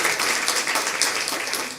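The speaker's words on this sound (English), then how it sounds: "big clap for Dennis" At a school district board meeting, an audience claps for a retiring staff member, a brief, continuous burst of many hands at moderate loudness.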